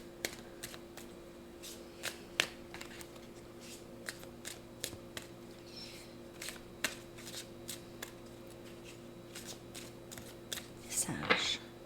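Tarot cards handled and drawn from a deck, giving quiet, irregular snaps and flicks over a steady low hum, with a brief louder rustle near the end.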